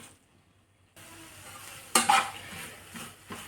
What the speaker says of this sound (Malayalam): ഈ പൊടികളുടെ പച്ചമണം മാറുന്നവരെ വരെ ഒന്ന് ഇളക്കി കൊടുക്കാം